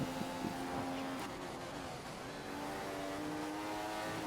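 The engine of an F1 race car in the video game F1 2015 drones steadily at moderate volume, with a sustained whine that shifts slightly in pitch.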